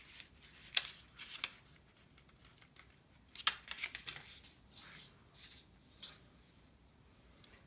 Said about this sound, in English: So you're folding it in half into a triangle shape.